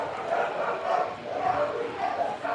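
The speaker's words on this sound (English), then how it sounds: "My livestock guardian dogs are barking outside" Livestock guardian dogs bark continuously outside at a distance, a steady muffled clamor heard through walls with faint voices mixed in.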